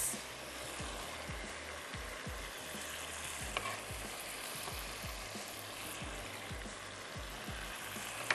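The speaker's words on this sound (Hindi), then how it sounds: "फूल गोभी और प्याज को मक्खन और ऑयल के साथ हम इसको फ्राई कर रहे हैं" Cauliflower and chopped onion frying in butter and oil, a soft even sizzle with a regular series of low stirring knocks from the pan, fairly quiet and close.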